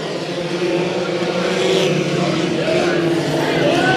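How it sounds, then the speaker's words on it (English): Mini stock race cars pulling away at the green flag on a summer evening at Bakersfield Speedway, a loud, steady blended engine roar across the whole stretch, with commentary faintly audible over it. "green flag is out. Good start for the mini stocks."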